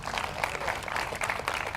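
A church congregation claps together, a brief burst of rhythmic, fairly quiet clapping from many hands in a hall.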